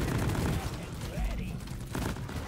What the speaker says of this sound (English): This is a grenade launcher after all.